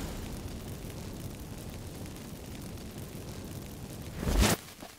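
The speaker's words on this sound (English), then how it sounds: "Get ready for some magic fireworks." Incense-triggered magic fireworks in The Witcher 3: Wild Hunt, a low rumbling burst near the end that swells loudly for half a second, then fades over a steady dull background hum.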